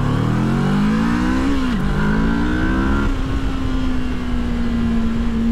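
A motorcycle engine revs hard at full throttle, its pitch climbing steeply, dipping at a shift, then climbing again before holding a steady high drone. Loud and close, with no voices.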